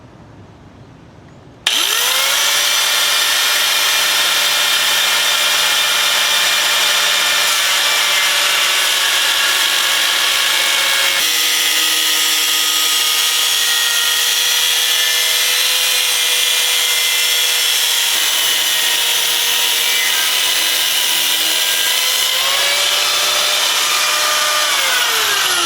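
Steady power-tool sawing cuts through material on a Suzuki GS550 cafe racer project, starting abruptly after a quiet moment and running loud and continuous, its whining pitch shifting slightly as the blade works.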